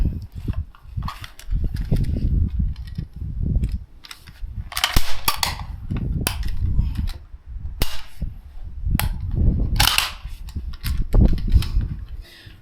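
SKS rifle fired repeatedly at an outdoor range, sharp loud cracks arriving in irregular clusters with echoing tails and steady background rumble between shots.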